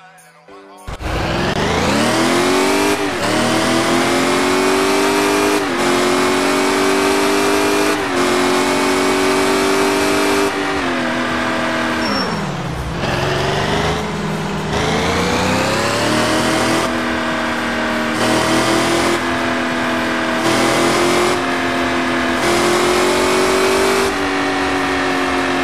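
A C6 car in the mobile game Car Parking Multiplayer, its engine revving loudly and close after a quick start, climbing and dropping through repeated throttle blips and sustained high revs for about twenty-five seconds, no talk.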